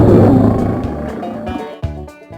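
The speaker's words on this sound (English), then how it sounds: "she heard a loud roar. She turned around to see two lions in the cage." Two caged lions at a zoo let out a loud, deep roar up close, which rumbles and fades over about two seconds, followed by a short grunt.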